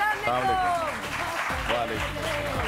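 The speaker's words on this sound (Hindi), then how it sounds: "भरपूर तालियों में अयाज खान" A television studio audience applauds to welcome actor Ayaz Khan onto a morning show, a steady wash of clapping with a presenter's voice riding over it throughout.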